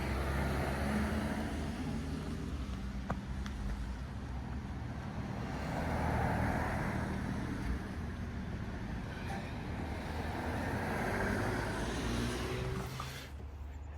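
A white Toyota Sienna minivan moving off, heard as a steady, moderately faint broadband engine and road rumble that holds evenly and then drops away in the last moment.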